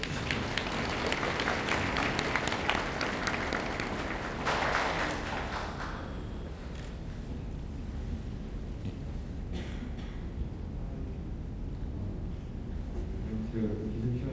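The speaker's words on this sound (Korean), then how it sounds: "박수 한번 크게." An audience breaks into loud applause that fades over several seconds into scattered clapping and crowd murmur.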